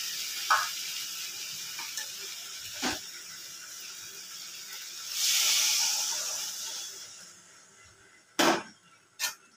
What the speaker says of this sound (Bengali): তরকারিটা ভালো করে কষিয়ে নিয়েছি, এবার আমি পরিমাণ মতন জল দিয়ে দেব।